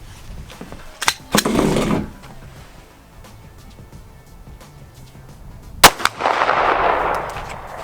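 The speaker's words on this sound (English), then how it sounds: "First, I'm gonna put one on target with the pistol, see what we got." Pistol shots aimed at a distant target at a range, two sharp cracks about four seconds apart, each followed by a rolling, fading echo over faint background noise.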